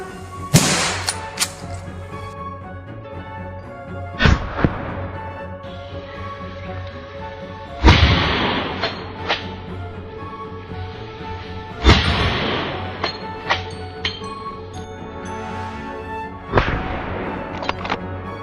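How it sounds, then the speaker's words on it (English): Rifle shots fired at wild boar near a forest edge by farmland: five sharp, loud reports spaced a few seconds apart, each followed by a rolling outdoor echo over a steady low background hum. "raised his rifle, locked onto the target, and pulled the trigger"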